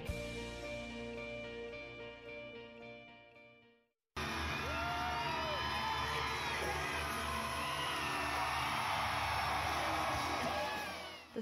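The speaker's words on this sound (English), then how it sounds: "The sound of fans screaming was deafening inside the Save Mart Center" At a concert in Fresno's Save Mart Center, a loud, dense arena crowd screams and cheers continuously, following a few seconds of amplified music that fades out.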